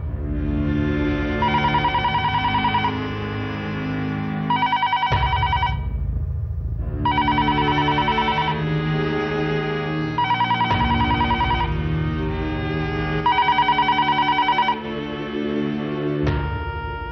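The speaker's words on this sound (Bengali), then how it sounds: "হাসপাতাল থেকে ফোন এসছে মনে হয়।" Telephone bell ringing loudly in bursts, repeated rings separated by brief pauses across the clip, alone with no one speaking.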